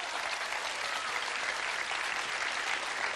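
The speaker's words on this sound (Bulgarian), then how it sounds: "Аплодисменти за Криско" Studio audience applause for Krisko on a celebrity impersonation TV show, a steady, even wash of many hands clapping that holds at constant strength throughout, fairly soft.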